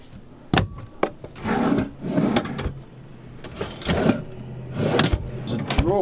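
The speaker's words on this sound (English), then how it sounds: "It's a drawer, but I think, yes." A few wooden knocks and sliding scrapes of a drawer being pulled open and pushed shut inside a 2003 Country Coach Intrigue motorcoach, close by with some faint background noise.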